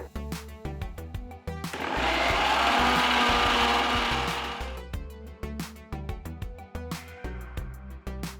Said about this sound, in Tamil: ஆறுனதும் மிக்ஸி ஜாருக்கு மாற்றி நல்லா பேஸ்ட்டாக அரைச்சிக்கோங்க.